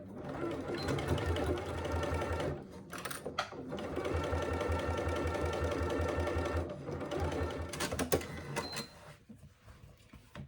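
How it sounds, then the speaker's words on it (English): A sewing machine stitches a faux leather and fabric handbag panel in long, fast runs of rapid, even needle strokes, with a few brief pauses and clicks between bursts, close and clear. "I'm going to sew it on the fabric side"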